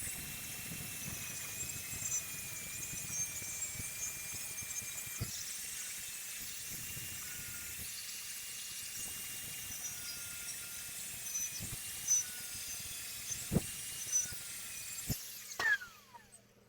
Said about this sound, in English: I'm going to go ahead and cut these and get ready for